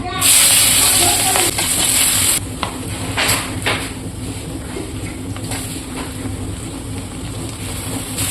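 Vegetables hit very hot oil in a wok with a loud, bright sizzle for a couple of seconds, then settle into a quieter, uneven hiss with faint clatter.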